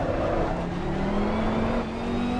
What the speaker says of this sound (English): listen to the sound of that Lambo